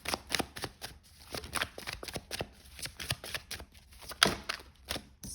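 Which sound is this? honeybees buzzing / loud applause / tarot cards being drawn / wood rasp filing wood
tarot cards being drawn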